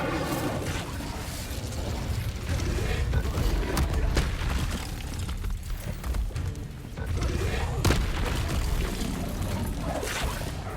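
Bombarda and Confringo spell explosions in Hogwarts Legacy, a dense, continuous barrage of blasts and crackling impacts that stays loud throughout with no talking.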